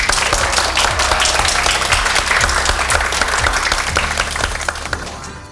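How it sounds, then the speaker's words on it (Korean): An audience applauds a speaker at a talk on running a local business. The clapping is loud and dense, sustained for several seconds before gradually fading. "박준규 대표님께 다시 한번 박수 부탁드리겠습니다"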